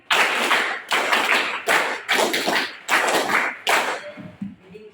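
Seventh-grade students clap in unison in a counting game, five rounds repeated, heard as six strong, evenly spaced bursts of many hands before fading to quiet room sound.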